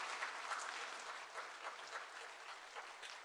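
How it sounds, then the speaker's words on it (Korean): Steady applause from a church congregation fills the space, many hands clapping evenly for several seconds and tapering slightly toward the end, with no talking over it. "우리 하나님 앞에 감사 박수 올리겠습니다."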